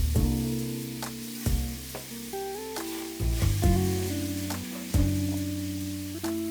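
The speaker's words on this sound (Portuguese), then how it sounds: "É tostar bem essa carne para depois a gente ir para o cozimento." Beef searing untouched in a hot pan, a steady, fairly loud sizzle running throughout, with tonal background music playing over it.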